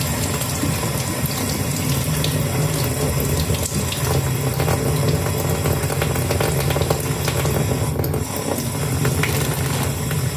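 Strong tap water pours into a kitchen sink while shrimp are washed and peeled, a loud continuous rushing splash with faint handling clatter, no talk.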